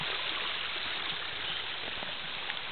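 Rain runoff, coffee-colored from herbicide and mining discharge, rushes down the middle of an eroding road beside a creek. It makes a steady, close, unbroken wash of flowing water, with no voices.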